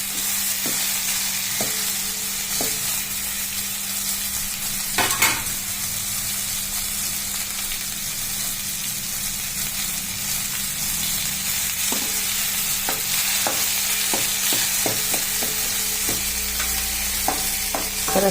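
Gravy paste of chillies and ginger frying in a pan for sorghum khichdi, a steady close sizzle with occasional spoon scrapes and taps as it gets stirred, fairly quiet and continuous.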